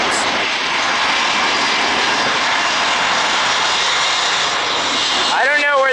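An airliner takes off at Atlanta airport at full throttle, a loud, steady, broadband engine roar that fills the whole stretch and swells slightly toward the end.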